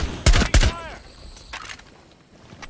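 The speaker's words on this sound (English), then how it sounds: "I'm shooting them through the manhole cover." Gunfire in Rainbow Six Siege fired through a manhole cover: two loud, close bursts of shots, then a fainter burst.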